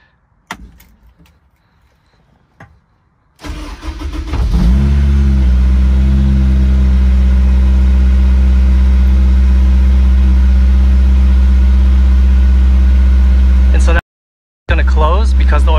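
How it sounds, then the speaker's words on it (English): A Honda S2000 engine turns over and catches, then settles into a loud, steady idle that drones on, cutting out briefly near the end. "then that's when I can start the car"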